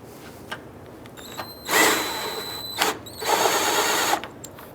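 Power tool tightens a bolt on a 2004-2009 Dodge Durango during a serpentine belt tensioner replacement, two short whirring bursts close by over quiet shop background, no talking.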